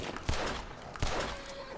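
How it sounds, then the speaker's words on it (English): Cannons mounted on a flying horse fire in Red Dead Online, two heavy booming blasts spaced about a second apart, each with a sharp thump and a lingering rumble over a noisy game background. "We got the Pegasus 3000 with, like, cannons coming off it"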